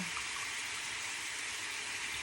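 Thin watery coconut milk pours steadily into a cooking pan, a continuous close splashing gush with no talking.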